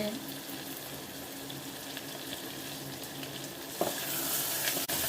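Ginger garlic paste sautéing in a pan alongside curry leaves and coriander, a dense continuous hiss of frying with a few stirring knocks, steady and close.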